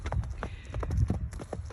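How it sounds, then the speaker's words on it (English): A gaited horse paces over ground poles during a training session, its hooves beating an uneven, close clip-clop rhythm of quick dull thuds. The hoofbeats carry on alone throughout. "some of these horses are hardwired to pace, and sometimes you got to use a lot of poles to get them to trot"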